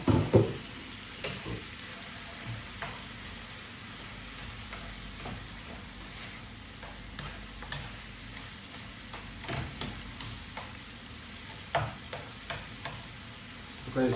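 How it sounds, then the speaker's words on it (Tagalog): Tomatoes are stirred in a frying pan for a Filipino breakfast, giving soft, scattered scrapes and ticks over a faint low sizzle, fairly quiet and close, with no voices. "haluin lang natin itong kamatis"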